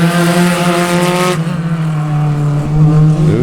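A close pack of SCCA Spec Racer Ford race cars roars past a wall at Sebring, loud engine notes sweeping and falling in pitch as the cars pass one after another.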